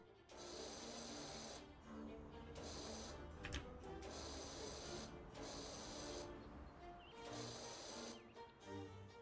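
A steady, loud hiss of spray from a hose in a video game, running in long bursts broken by short pauses, with game sounds layered underneath.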